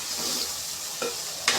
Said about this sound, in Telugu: ఇలా ఫ్రై చేస్తూ ఉంటే